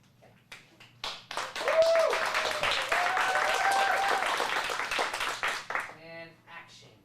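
A small group of kids at an acting lesson breaks into a round of applause, with a few seconds of dense clapping and cheering, then a voice briefly speaks as it fades.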